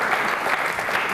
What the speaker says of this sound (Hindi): तालियां जोरों से बजाइए और उस महान शख्सियत के सम्मान में